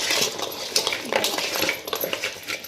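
Goat trotters being mixed with turmeric by hand, giving a steady, close clatter of wet knocking and scraping against a vessel, with busy irregular clicks throughout and no voices.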